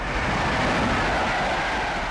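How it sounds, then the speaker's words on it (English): A cartoon train rumbles steadily along the rails, a continuous loud rolling noise with no clear breaks and no talk over it. "we have to get on the back of that train"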